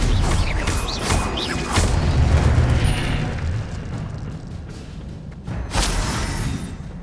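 Incendio and Stupefy spells go off in Hogwarts Legacy as a series of deep booming blasts and whooshing bursts over a dense, rumbling game soundscape, with a fresh surge near the end.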